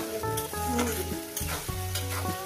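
Sliced onion fries in hot oil while cooking bata fish curry, a steady close sizzle with a few scraping stir strokes over a continuous bed of crackle, no voices.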